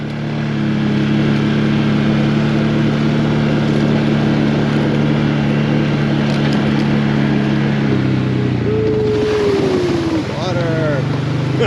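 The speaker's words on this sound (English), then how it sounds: "we're going to take the ATV" An ATV engine drones loud and steady while riding along a forest trail, a continuous close rumble with a shift in pitch near the end, under a voice speaking.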